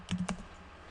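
Several quick keystrokes on a computer keyboard, close and clear, a short burst of clicks that stops after about a third of a second, then quiet.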